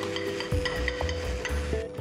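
A spatula stirs a potato and green pea mixture for almond tikki in a hot pan. Repeated close scrapes and soft thumps sound over a light sizzle.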